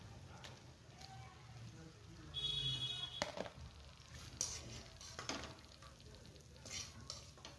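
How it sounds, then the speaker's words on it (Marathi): Jaggery kapanya pastries frying in oil over a low gas flame: a soft, quiet sizzle with occasional stirring clinks and scrapes of a utensil in the pan. "कमी गॅसवरच तळायचे ते."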